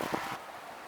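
Brief gust of wind buffeting the microphone, a broad rushing roar that fades quickly.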